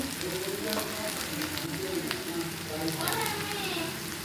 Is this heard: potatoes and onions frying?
yes